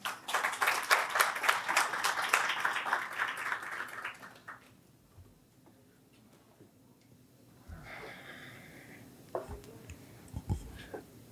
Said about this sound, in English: Please give a round of applause for Stephen.